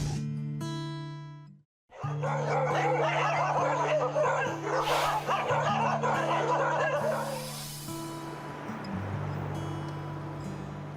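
A stray dog on a Manila sidewalk barks and yips repeatedly amid a busy, noisy background with a steady low hum, the barking fairly close and continuing through most of the clip.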